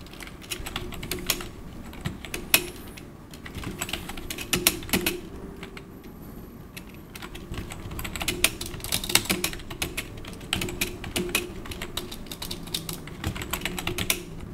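Computer keyboard typing as a short prompt is entered, with a steady run of close, clicky keystrokes in quick bursts and no talking.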